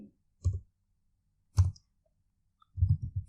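Three short bursts of keyboard key clicks, a single tap, then a quick pair, then a longer run of typing, close and crisp in an otherwise quiet room.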